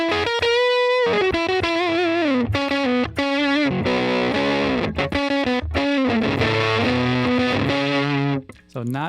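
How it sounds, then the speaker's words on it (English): Electric guitar on the neck pickup through an AmpliTube ToneX fuzz tone, loud and close, playing distorted sustained notes and chords with quick melodic runs and no voices. "So not a bad fuzz sound there."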